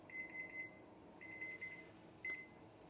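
A series of short electronic appliance beeps in quick bursts, three rapid groups followed by a single longer tone, over a low background hum.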